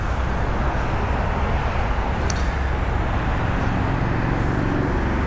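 Steady road traffic noise with cars whirring past continuously, a broad constant rumble at moderate level with no talking, recorded outdoors during a microphone test on a GoPro.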